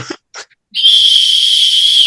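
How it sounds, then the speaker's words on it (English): A shrill, steady whistle blast held for over a second, loud and close, preceded by a couple of brief breathy puffs. "I should blow the whistle 40 times"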